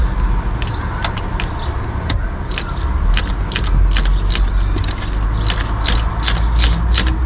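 A ratchet wrench clicks repeatedly while loosening thermostat housing bolts on a Vauxhall Zafira B, the sharp metallic pawl ticks coming in quick uneven bursts, close up over a steady low background rumble.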